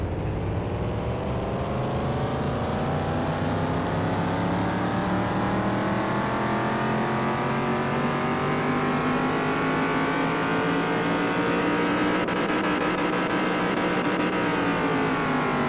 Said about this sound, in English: Engine started. 305 horsepower on the base of this van.